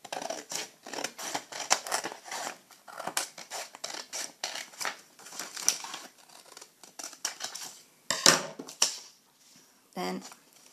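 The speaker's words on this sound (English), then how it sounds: "the bit that's left here, you cut that off. As close as you can." Scissors snip through folded origami paper for a whale model in a quiet indoor setting, a run of short crisp cuts and crinkles close to the mic, with a louder rustle of paper near the end.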